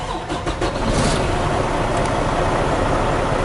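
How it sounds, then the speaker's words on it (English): A truck engine cranks and catches, then settles into a loud, steady idle rumble close by, with no talking. "All right, now start your engine."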